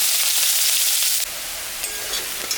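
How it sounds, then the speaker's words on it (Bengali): Onion frying in oil over fish-frying oil with dried chilli and cumin seasoning, a loud steady broadband sizzle that drops sharply partway through as the pan settles into a softer continuous crackle. "পেঁয়াজটা আমি দিই।"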